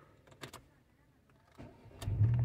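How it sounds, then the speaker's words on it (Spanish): A Volkswagen car with its check-engine light on cranks and its engine catches, building to a low, steady rumble after a few quiet clicks and shuffles in a calm setting. "en lugar de esperarnos 10 segundos, vamos a prender el carro"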